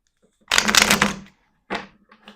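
Tarot cards are shuffled up close: a dense riffling burst of about a second, then a short pause and two quicker bursts of flicking cards.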